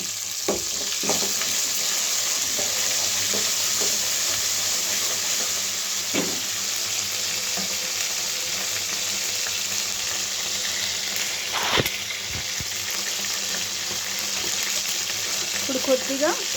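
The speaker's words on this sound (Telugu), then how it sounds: "ఇందులోనే మనం అల్లం వెల్లుల్లి పేస్ట్ వేసుకుందాము" Ginger garlic paste hits hot oil in a pan, a loud continuous sizzle with occasional stirring clatter and scraping, no one talking.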